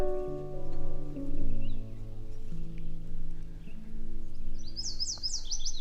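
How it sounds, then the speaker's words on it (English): Over a low, steady hum by a quiet riverside at Fort Pitt, a bird lets out a quick run of bright chirps near the end, clear but not loud. "All you can hear is just the birds."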